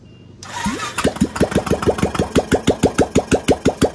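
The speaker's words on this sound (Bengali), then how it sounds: "এবার আমি স্টার্ট করব ইঞ্জিনটা" A Royal Enfield Classic motorcycle engine, freshly rebuilt with an oversize piston, cranks briefly and catches, settling into a loud, steady single-cylinder thump with evenly spaced beats close to the listener.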